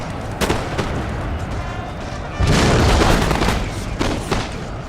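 Musket volleys and artillery fire roll through a battle in a Napoleonic-era strategy game on an Italian grasslands map, a dense continuous din of crackling shots and booms that swells louder midway with sharp bursts.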